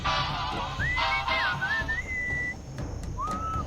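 A melodic whistled tune from the Sam & Max: Beyond Time and Space adventure game, a few gliding notes rising and falling over a steady background music bed, fairly close and clear with no talking.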